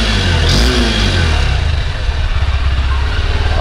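Exhaust note of a new Honda CB200X adventure-tourer motorcycle, a close, loud low engine rumble that rises briefly under a throttle blip and then settles back, without talk.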